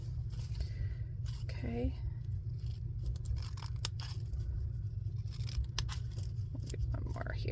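Scissors snip through strips of paper in a quiet craft setting, with several soft, brief cuts scattered over a steady low background hum and a short spoken word.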